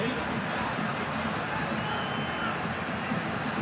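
A large stadium crowd at a CFL West Final football game between the BC Lions and Calgary Stampeders roars and murmurs steadily after a fumble, a dense, continuous wash of cheering and babble with no clear individual voices.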